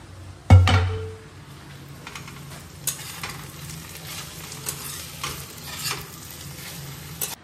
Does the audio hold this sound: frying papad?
yes